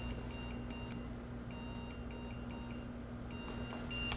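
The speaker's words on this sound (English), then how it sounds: "let's see if it still wants to beep at us" Repeated short high electronic beeps from a computer being powered on during a repair, sounding in groups over a steady low hum, fairly close and clear.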